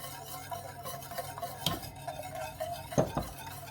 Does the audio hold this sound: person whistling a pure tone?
no